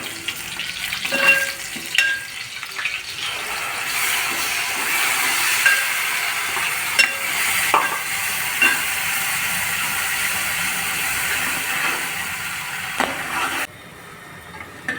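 Green ground masala paste frying in hot oil with curry leaves in a pan, a steady loud sizzle and hiss throughout with occasional spoon scrapes, cutting off abruptly near the end.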